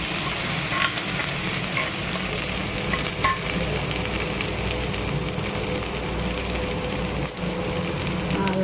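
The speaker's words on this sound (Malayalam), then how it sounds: "ബ്രൗൺ ഷെയ്ഡ് വരുന്നത് വരെ മൂപ്പിക്കാം." Garlic and ginger paste frying in a pan for a homemade beef curry, browning under a steady, dense sizzle that runs unbroken and close throughout with no talk.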